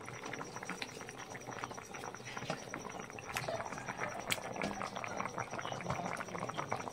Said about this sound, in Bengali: তোমার ঝোলটা কি সুন্দর গপ গপ করে ফুটছে